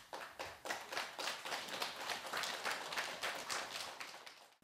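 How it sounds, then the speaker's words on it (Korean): An audience at a Buddhist memorial ceremony gives warm applause to welcome a speaker, a quiet, even rattle of many hands clapping together that fades out toward the end. "공학 박사이신 박문호 박사님을 큰 박수로 모십니다."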